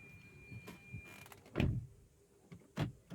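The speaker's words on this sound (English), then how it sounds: "There the door locks and it unlocks." Door lock mechanism on a 2022 Tata Altroz XZ hatchback, two distinct clunks about a second apart, close and fairly loud, the first as the doors lock and the second as they unlock, with faint creaks and clicks between.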